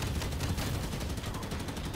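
Many turrets fire in Halo 5: Guardians, a fast, steady rattle of rapid gunfire that runs through the moment at moderate loudness.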